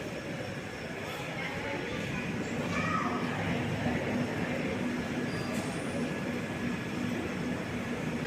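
A Chennai–Shivamogga weekly express train runs steadily during heavy monsoon weather, a continuous broad rumble of wheels and carriage noise heard from inside, with faint voices in the background.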